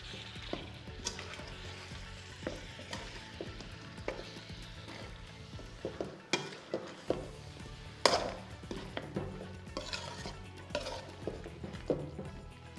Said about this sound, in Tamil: சிக்கன் போட்டோங்க, நல்லா கலரி விட்டுக்கோங்க.